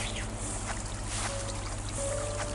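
River water flows steadily in a rural Japanese countryside life-adventure video game, a constant close rush and trickle with faint tonal notes drifting through.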